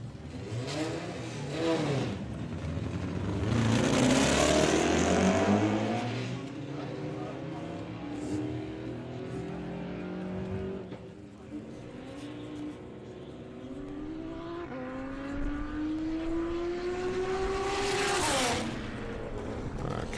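Doorslammer drag racing cars, including a six-cylinder and a four-cylinder entry, rev and accelerate hard down the strip, loud engine whines rising in pitch across two runs with crowd and commentary voices mixed in.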